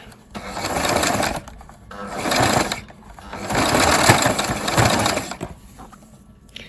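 A sewing machine gathers curling lace, running in several loud, close bursts of one to two seconds separated by brief pauses.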